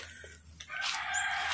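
A rooster crows once, loud and close, its call rising after a brief low rustle.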